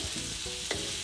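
Thai pineapple fried rice sizzles in a pan as it is flipped, a brief close frying hiss with a couple of scraping turns.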